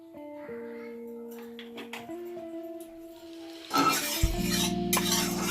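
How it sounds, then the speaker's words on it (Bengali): Oil heats in a kadai on a gas stove, a quiet hiss and faint clinks giving way to a louder, fuller sizzle in the last seconds, with low tonal hum underneath and no talk. "তেলটা খুব ভালো করে গরম করে নিয়েছি।"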